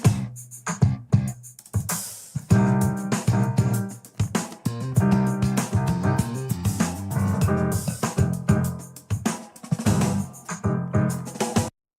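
A lively AI-regenerated version of a keyboard performance on a Yamaha DGX-670, with full chords, a steady driving rhythm and bright layered tones, played continuously with short pauses near the start.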